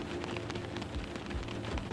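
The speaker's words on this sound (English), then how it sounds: "Wasn't looking forward to cycling in this rain anyway." Steady rain patters on surfaces in a rural Wales setting within the game Chasing Static, a dense continuous hiss with small drop-like taps, fairly quiet and with no speech.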